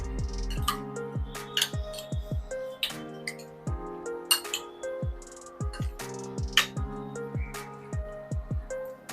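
Prawn marinade ingredients for spicy green chilli prawns being mixed in a bowl, with a run of close, sharp clinks and taps of a spoon against the dish at an uneven rhythm.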